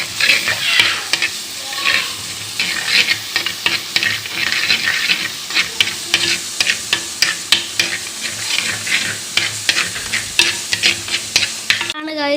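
Crushed spices sauté in oil in a pan for a Kerala-style karimeen (pearl spot fish) curry, a steady loud sizzle broken by repeated scraping stirs, with no talk.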